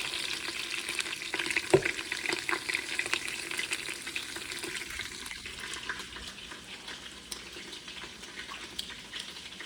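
Snapping turtle meat fries in melted butter in a pan, giving a continuous close sizzle and crackle with scattered sharper pops, one louder near the start, then settling to a softer, even fizz.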